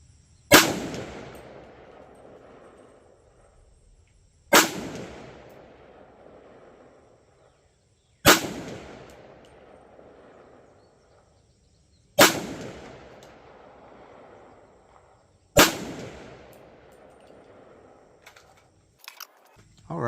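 Five single gunshots from a .300 BLK rifle firing 110 grain black tip ammunition crack out at slow, even intervals several seconds apart, each followed by a fading outdoor echo.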